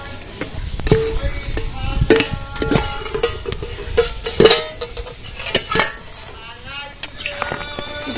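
A metal lid comes off a pot of jackfruit that has been boiling for an egg-and-jackfruit curry, followed by a series of close, sharp clanks and clinks of pot and utensil at an irregular rhythm.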